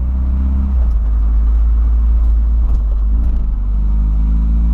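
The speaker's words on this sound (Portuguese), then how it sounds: "Olha o barulhão do Voyage." A Volkswagen Voyage's engine roars loud and close with a heavy, steady low rumble, its pitch rising and falling slightly as it revs.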